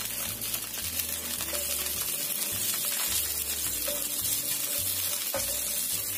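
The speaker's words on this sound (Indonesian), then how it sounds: "Kita panggang sampai daunnya itu agak kering seperti ini ya, agak kecoklatan" Pepes wrapped in banana leaves sizzling and crackling on a hot grill, a loud continuous close frying hiss with occasional sharp pops and soft shuffling as the parcels are turned.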